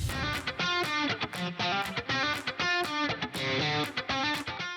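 A voice heavily processed with reverb, delay and Autotune sings in steady, chopped, pitch-corrected phrases with smeared tails, loud and continuous across the stretch.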